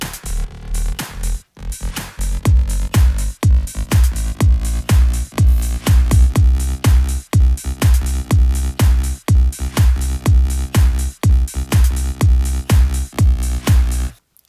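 An EDM track with a mystic feel plays alone, its pitch automated to rise from an octave below back to normal by bar 5, carried over a steady, punchy four-on-the-floor kick with brief dropouts between phrases.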